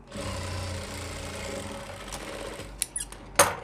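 Sewing machine stitching the belt of a baby pant: a steady whirring run that fades, followed by a few short squeaky bursts, close and moderate.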